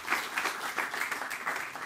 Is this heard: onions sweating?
no